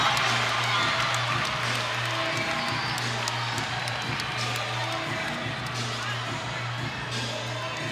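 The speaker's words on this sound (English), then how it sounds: "the crowd started to get really into that play" Volleyball crowd at an NCAA women's match between Wisconsin and Maryland keeps up a steady roar of cheering and clapping throughout, loud and continuous, with a low hum underneath.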